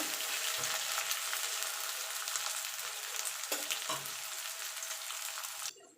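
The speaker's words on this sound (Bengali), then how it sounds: "এবার পেঁয়াজটাকে একটু লাল লাল করে ভেজে নেব" Chopped onions frying in a pan until reddish brown for a dry chicken dish, a steady bright sizzle with a few stirring scrapes, close and continuous, cutting off near the end.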